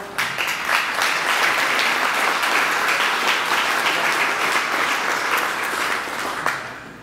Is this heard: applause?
yes